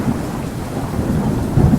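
Low, continuous thunder rolls through a downpour, a dense broadband rumble of storm and rain, fairly loud and close, with no voices.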